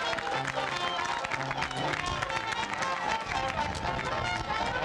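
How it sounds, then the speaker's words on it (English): Parade audience at a Fourth of July parade in Burlington applauding a band, a steady dense patter of clapping with crowd noise, mixed with voices. "Nice round of applause."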